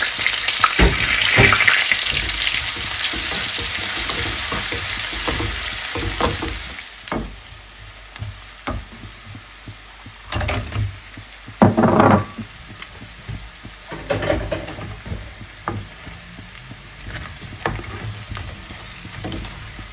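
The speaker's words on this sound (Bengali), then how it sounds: "আর এখানে আমি একটু এখন পেঁয়াজটা মাছের যে পেঁয়াজটা এক সাইডে একটু ভেজে নিব।" Onion frying in leftover fish oil in a pan, a loud close sizzle at first that eases off, then scattered stirring scrapes and crackles.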